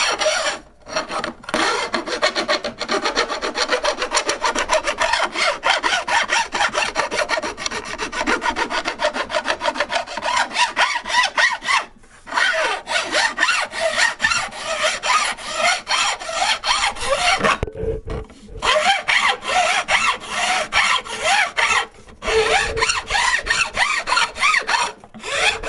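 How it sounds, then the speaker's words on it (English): A big, heavy hand file grinds across stainless steel fret ends on a guitar neck in long, steady rasping strokes, close and loud, repeating with brief pauses between passes and no talking. "you start with a big, heavy file"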